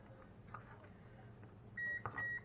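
A kitchen oven preheating to 375 degrees sounds its ready signal: a couple of clear electronic beeps, the second following a brief gap, standing out above quiet room tone near the end.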